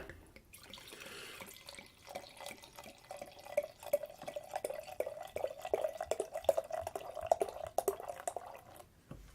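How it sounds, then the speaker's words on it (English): A bourbon barrel aged milk stout poured from a bottle into a glass, with faint trickling and small irregular splashes and drips that grow busier midway, quiet and close, with no talking. "You can see beer splashing everywhere, but it sounded good."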